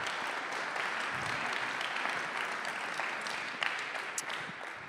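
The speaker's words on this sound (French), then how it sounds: "On peut lui faire aussi un tonnerre d'applaudissements." An audience applauds at the launch of a digital-inclusion event in Haute-Garonne as a speaker is welcomed on stage. The clapping is steady and dense, a few louder claps stand out, and it sounds moderately distant.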